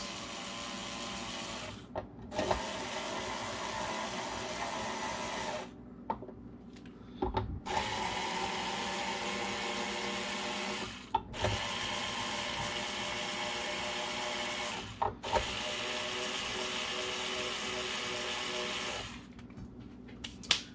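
Small hand-held tool turning to loosen the strings on a Collings C100 Deluxe acoustic guitar: a faint, steady whirring buzz in several long bursts separated by brief pauses and clicks.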